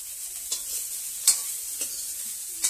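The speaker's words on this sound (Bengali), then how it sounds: "কপিটা ভাজা হচ্ছে" Cauliflower sizzles steadily as it fries in a pan, with a few sharp stirring scrapes from a utensil cutting through the constant close hiss.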